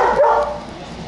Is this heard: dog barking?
yes